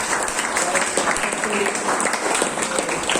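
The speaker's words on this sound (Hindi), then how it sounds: "एक अच्छी ताली उनके लिए भी मिल जाए" A church audience at a Good Friday youth program claps together in dense, sustained applause, close and loud, with a voice speaking over it.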